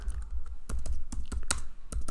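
Rapid clattering keystrokes on a computer keyboard as Python code is typed, a dense irregular run of close, crisp clicks with no talking.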